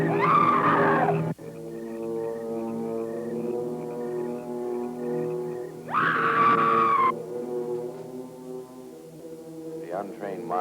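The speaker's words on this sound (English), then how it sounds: "it is the scream of the white ghost" A woman's drawn-out, wailing scream from a 1959 horror film set near an old bell tower in an ancient cemetery, rising in loud bursts over a sustained eerie tone, with a second shriek midway and fainter cries at the end.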